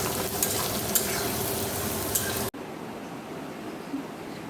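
A spiced potato and eggplant curry with pabda fish sizzles and is stirred in a pan with sharp scraping ticks, then cuts abruptly to a much quieter, low background for the remaining seconds.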